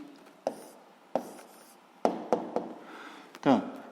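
Pen writing out a physics answer by hand on paper, a few scratchy strokes separated by soft taps, with faint background noise and a teacher's voice speaking nearby.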